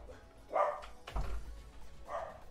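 Dogs bark in a few separate bursts, moderately loud and fairly close, with short gaps between barks and a low background rumble.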